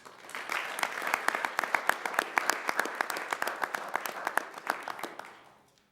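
Applause from a school board meeting audience honoring student award winners, steady clapping by a moderate crowd that swells and then tapers off near the end, heard alone without talk.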